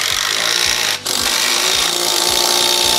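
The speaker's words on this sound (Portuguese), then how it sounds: "Acerte o torque da sua parafusadeira para não espanar o parafuso." A power screwdriver whirs continuously while driving a screw during assembly of an HE6 unit, the steady motor noise dipping to a brief pause before resuming, with a faint clicking pulse underneath.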